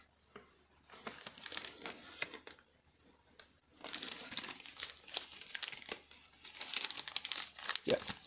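A plastic bag crinkles loudly and closely while a printed cardboard card is slid out of it during a Shure MV7 microphone unboxing, in bursts of crackling with a brief quiet pause in the middle.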